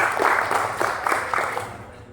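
Audience applause at a community gathering for a new sports facility in Cakung, a dense wash of clapping with soft rhythmic pulses, fading out toward the end.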